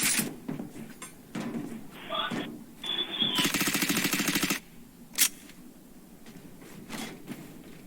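Gunfire in the video game Valorant: a dense, rapid burst of automatic shots mid-clip followed by a single sharp report, mixed with game effects and voices talking.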